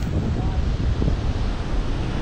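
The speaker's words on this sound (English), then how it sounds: "Just coming out at the beach in Noosa." Surf and wind on a beach at Noosa, a steady loud wash of breaking waves blended with rumbling wind buffeting the microphone, continuous and close for a couple of seconds.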